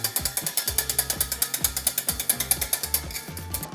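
A wire whisk beats a sabayon for hollandaise sauce in a bowl, making a fast, steady run of about twenty sharp metallic clicks as it strikes the bowl on each stroke, close and fairly loud.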